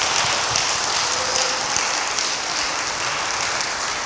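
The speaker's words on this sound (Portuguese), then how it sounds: "Uma salva de palmas." A church congregation applauding during a service, a dense wash of many hands clapping together, steady and fairly loud throughout with no single claps standing out.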